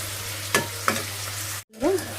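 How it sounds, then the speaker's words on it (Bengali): Cashews stir-fried in a pan for a chicken kali mirch dish, a continuous close sizzle with a few sharp scrapes of the spatula, a brief pause, then another stirring scrape. "কাজুগুলো দিয়ে আমি 1 মিনিট মতো এখানে ভেজে নিয়েছি। দেখুন, এভাবে নেড়ে চেড়ে।"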